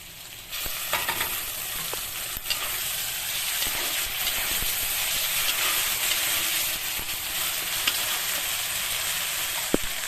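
Ground spice paste sizzles with frying potatoes in a pan, a fairly quiet hissing fry with occasional stirring scrapes and taps, steady throughout.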